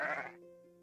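A single short sheep bleat, fairly close and clear, fading quickly into quiet.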